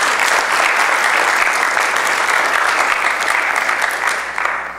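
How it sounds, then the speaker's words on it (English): Church congregation applause fills the room with steady, loud clapping from many hands, holding evenly and tapering slightly at the close. "Ever think you'd be applauding for something like that?"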